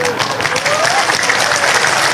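A crowd at a Nuzulul Qur'an commemoration gathering applauds, a loud, dense burst of clapping that stays continuous and close throughout the brief moment.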